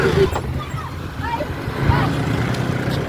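Steady low rumble of a moving vehicle's interior, broadband road and engine noise throughout, with faint voices talking over it.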